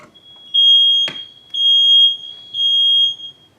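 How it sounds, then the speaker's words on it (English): A household smoke alarm under test gives three loud, piercing electronic beeps in an even rhythm. A sharp click lands between the first two beeps, and the room is otherwise quiet. "The smoke alarm units that I wasn't able to reset."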